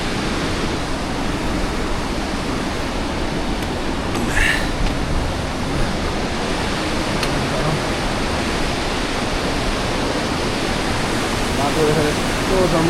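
A mountain river rushes beside a steep trekking trail on the Shey Phoksundo trek in Nepal, a loud, continuous broadband roar of churning water that stays steady and close throughout.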